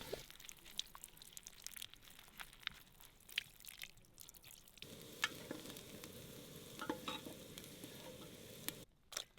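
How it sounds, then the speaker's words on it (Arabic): Onions browning in a pot at a desert campsite in the rain give off a steady sizzle and frying crackle, with occasional stirring scrapes, moderately loud and close, with no talking. "الحين فقرة تكشينة البصل"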